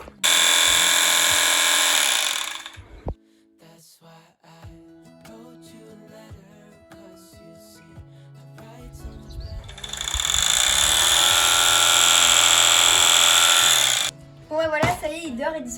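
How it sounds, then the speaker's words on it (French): Loud electric clippers shearing a pony buzz steadily, stop for several seconds while other clattering and humming continues, then start buzzing again before cutting off. "Dès qu'il entend le bruit de la tondeuse, il sait que c'est parti pour une heure de dodo."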